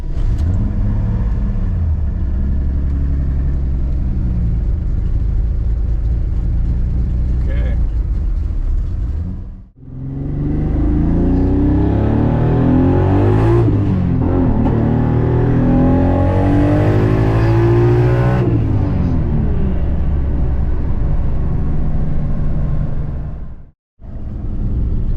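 A car engine sits in neutral and is floored, its idle rumble climbing into a loud sustained rev before dropping back, heard up close with a brief cut partway through.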